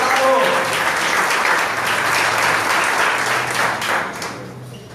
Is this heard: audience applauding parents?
yes